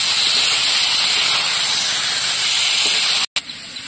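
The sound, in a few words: fried potatoes added to sizzling spice masala, stir-fried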